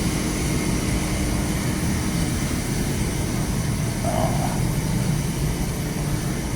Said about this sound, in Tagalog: Yan ang mga makina.